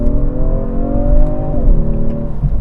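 A 2019 Genesis G70 engine pulls under acceleration on the road, a steady harmonic drone that climbs and then dips as it shifts, loud and close with no talk.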